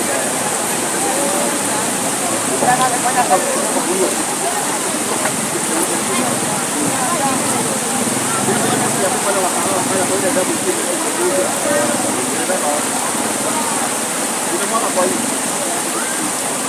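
Water rushes and pours continuously like a stream or small waterfall, a dense, loud, unbroken roar that holds steady throughout.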